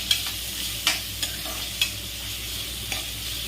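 Peanuts, curry leaves and small carrot pieces sizzle in a pan while a spoon stirs them, giving a steady frying hiss broken by several sharp scraping clicks. It sounds close and clear, with no voices.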